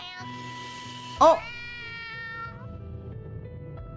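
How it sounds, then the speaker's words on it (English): A single short, loud cat meow rises sharply over steady background tones, followed by a brief spoken exclamation. "That's a cat."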